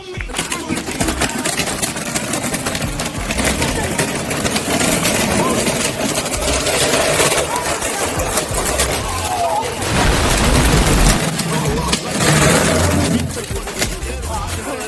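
A car engine revs in first gear during drift runs, a loud, rough roar that surges and eases throughout with brief sharper bursts, while voices are faintly mixed in.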